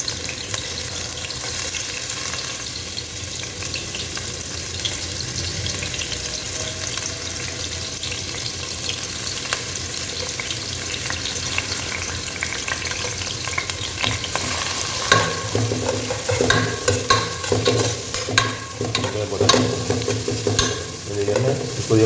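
Food fries and is stirred in hot cooking oil in a pan, a constant loud sizzle with scraping utensil strokes that grow busier and more clattering toward the end, with no voices.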